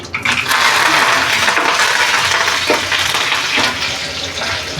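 Curry leaves crackle and sizzle in hot oil with cumin seeds for upma: a loud, dense, steady frying hiss that holds the full length with small pops and no talking.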